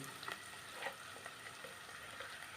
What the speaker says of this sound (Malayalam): അപ്പോൾ സവാളയൊക്കെ ഒരു നല്ലതായിട്ട് വഴന്ന് വന്നിട്ടുണ്ട്